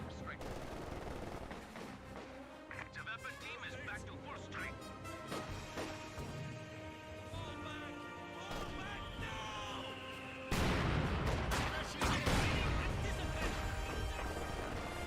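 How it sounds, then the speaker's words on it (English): A sudden loud blast erupts near the end of a Company of Heroes 2 battle as a landmine detonates, cutting through steady gunfire and in-game combat noise while a commentator talks throughout. "I heard a landmine detonation."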